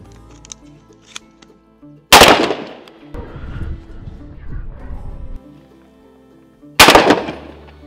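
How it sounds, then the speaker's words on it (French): Two loud shotgun blasts from a Benelli SX4 fired at starlings on a farm, sharp and close, several seconds apart, with quieter rustling and handling noise between them. "C'est vraiment, je trouve, le fusil parfait pour ça"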